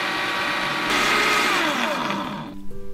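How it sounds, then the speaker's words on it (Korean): A kitchen blender purees chopped carrot with water, a loud steady grinding whir that rises briefly and then winds down and stops near the end. "그리고 믹서기에 넣어 물을 넣고 곱게 갈아주세요."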